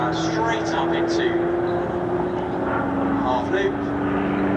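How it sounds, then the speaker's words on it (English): A light four-bladed propeller aerobatic plane at an airshow holds a steady engine drone as it powers up for takeoff, heard from a distance under a commentator's voice. "So looking for power ready for his takeoff."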